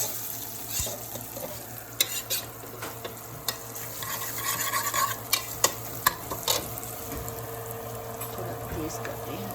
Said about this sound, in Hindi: इसको थोड़ा सा ना रोस्ट कर लेंगे घी में